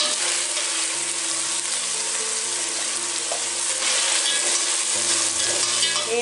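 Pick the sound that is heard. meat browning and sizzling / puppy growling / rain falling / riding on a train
meat browning and sizzling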